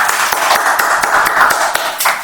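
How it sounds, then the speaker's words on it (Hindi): Students in a class 12 maths revision lecture clap together in a fairly close, busy patter of hand claps with distinct sharp hits, a moderately sized group applauding under some room noise. "पहले तालियां बजाओ सारे।"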